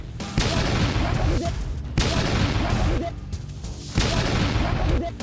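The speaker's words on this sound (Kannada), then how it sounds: "ದೊಡ್ಡ ಸೌಂಡ್ ನಲ್ಲಿ ಬ್ಲಾಸ್ಟ್ ಸೌಂಡ್ ಬಂದು ಬೆಂಕಿ ಹೊತ್ಕೊಳ್ಳುತ್ತೆ" Half a kilo of sodium metal dropped into water explodes in loud, roaring bursts: three heavy blasts a couple of seconds apart, each trailing into sustained rumbling noise.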